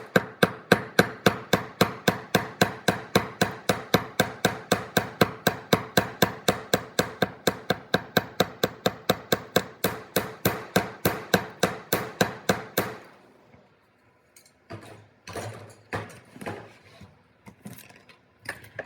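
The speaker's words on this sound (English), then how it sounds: "I'm going to hammer the tip of the hook." Rapid, steady metallic taps of a small hammer flaring the tip of a wire hook on a wire-wrapped bangle repeat dozens of times at an even rhythm, then stop, followed by a few scattered knocks and handling noises.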